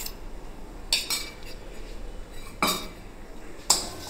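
A spoon stirs curry with added yogurt and spice paste in a pot, giving three separate metallic clinks against the pot over a quiet low background.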